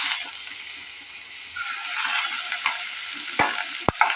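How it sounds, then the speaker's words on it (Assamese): Ground onion paste sizzles steadily in hot oil in a wok, with a spoon stirring and scraping through it and a couple of sharper clinks near the end, close and with no voices. "অলপ ভাজি ল'ম।"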